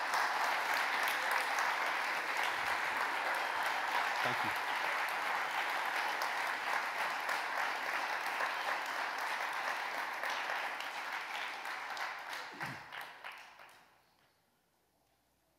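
An audience claps in a sustained round of applause that stays strong for many seconds, thins into scattered claps and stops abruptly near the end, with a brief spoken thanks.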